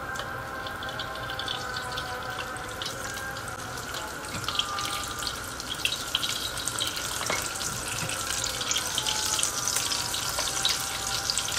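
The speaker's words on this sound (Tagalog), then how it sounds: "Magpainit tayo ng mantika at ito siya ay iprito. Dahan-dahan natin pagprito." Meat-stuffed green zucchini frying slowly in hot oil, a steady soft sizzle with watery hiss that holds evenly throughout, close by with no voices.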